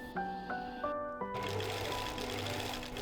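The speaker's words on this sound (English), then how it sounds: "I made sure to sew the bottom together with a small stitch while using a bigger one on the top" A sewing machine stitches a velvet dress seam up close, running in short bursts with brief pauses before settling into a steady whirring run.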